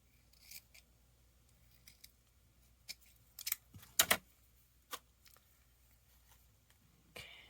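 Scissors snip paper for a spring journal in sharp, sparse cuts, a few quick isolated snips with one louder cluster near the middle, close and otherwise quiet.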